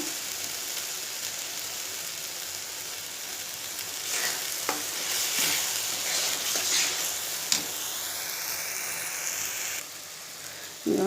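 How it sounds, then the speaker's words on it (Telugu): Masala for a spicy chicken curry frying in a pan, a steady close hiss of sizzling oil with occasional scrapes and stirring clicks throughout, no voices. "మసాలా వేగిందమ్మా చూడండమ్మా ఇలా వేగితే సరిపోద్ది"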